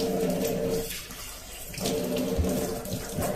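Dirty water runs from a Livpure RO water purifier during cleaning: a close, continuous splashing stream that briefly softens midway, then returns to full flow.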